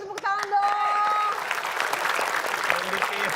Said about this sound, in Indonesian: boleh kita kasih tepuk tangan dong